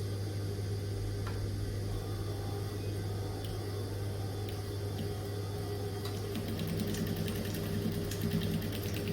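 A sewing machine sews a pocket with a steady, continuous motor whir and hum. It stays close and even throughout, with no talking.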